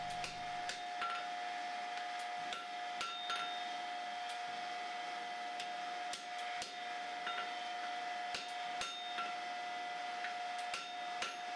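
Repeated sharp metallic hammer blows ring out at an uneven pace over a loud, constant forge roar, as pattern-welded steel billets are forge-welded on an anvil close by during the final welding heat.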